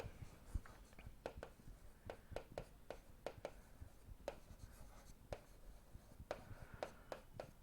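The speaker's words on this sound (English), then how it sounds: "I will write the definition clearly, just have a look on that." A pen or marker writes out a mathematics definition by hand, a run of quick scratchy strokes and taps at an uneven rhythm, close and clear with no talking.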